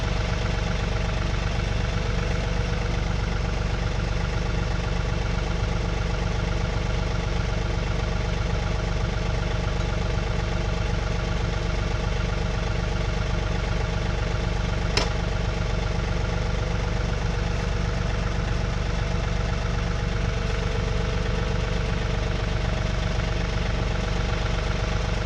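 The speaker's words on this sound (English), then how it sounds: "I'll back the tractor in the rest of the way to the 3-point hitch." A John Deere 3046R compact tractor's engine idles steadily and close by, a constant low rumble with a brief sharp click about midway and no talking.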